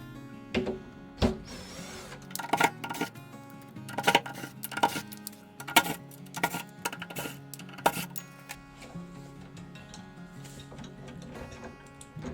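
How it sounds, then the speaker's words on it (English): A faceplate and handles come off a mortice lock, a string of close, sharp metallic clicks and taps from screws and fittings, busy at first, then quieter. "So first of all, I'm going to remove the faceplate. And then going to remove the handles."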